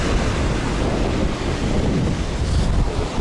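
Strong wind buffets the microphone over the continuous wash of ocean surf on a Perdido Key, Florida beach, a loud, steady roar with no voices.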